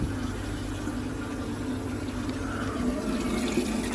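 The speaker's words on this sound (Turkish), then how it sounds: "Şebeke suyu da buradan besleniyor." Mains water running steadily into a non-freezing livestock waterer fitted with a float valve, a constant low gurgling flow that stays even and moderately quiet throughout with no talk.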